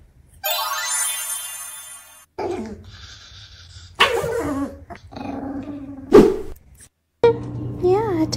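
A puppy growls in a few short bursts close by, mixed with a ringing tone and a voice and other people speaking between the growls.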